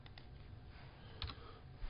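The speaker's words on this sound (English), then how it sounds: "Typing is not my forte." Quick bursts of keyboard typing, a few soft clicks then another short flurry of keys, quiet and close.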